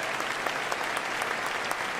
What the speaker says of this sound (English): David, give him a round of applause.